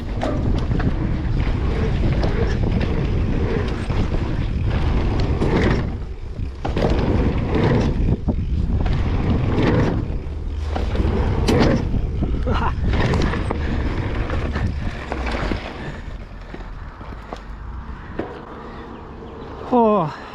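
Strong wind buffets the microphone at a mountain bike flow trail, a loud continuous roar with gusty swells and brief dips, filling the whole stretch.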